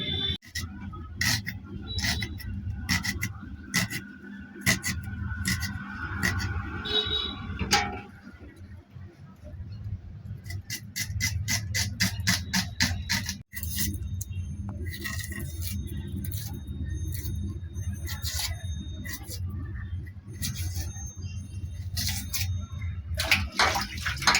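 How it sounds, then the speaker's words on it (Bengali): Knife chopping onions on a board while preparing a Bengali steamed egg curry, a steady run of sharp close taps that speeds into rapid bursts, with kitchen clinks and low background hum. "তাহলে চলো পেঁয়াজ কেটে নেব"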